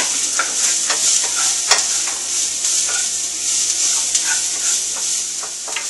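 Onion and garlic frying in a pot at the start of a beef stew, giving a loud, continuous close sizzle with faint stirring scrapes throughout.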